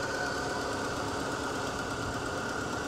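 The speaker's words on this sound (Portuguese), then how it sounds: "Um amigo deu partida aqui no motor." A classic 2000 car's engine idles steadily after being started at a used car market, a continuous mid-pitched hum with a faint knocking rhythm and no pauses.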